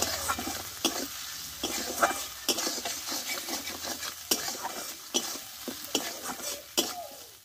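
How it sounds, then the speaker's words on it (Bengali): Spices, chopped tomatoes and salt sizzle in a pan for radish kofta curry, with repeated scraping and clinking of a spatula stirring the mixture up close. "মশলাটা একসঙ্গে ভালোভাবে কষে নেবো আমি"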